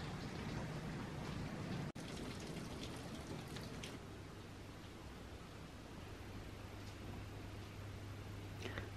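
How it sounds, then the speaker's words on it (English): Steady rain falls outside a studio window, a soft continuous hiss with faint scattered drop ticks, heard alone with no talking. "It's raining right now"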